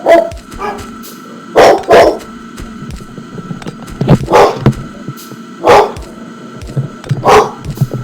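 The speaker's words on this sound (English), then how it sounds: "Dog's getting upset about something." A dog barks nearby in separate sharp bursts, several single and double barks spaced a second or so apart, loud and clear against a quiet indoor background.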